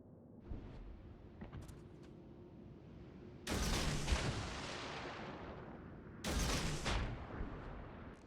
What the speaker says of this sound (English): It was the Hindenburg's freaking AP salvo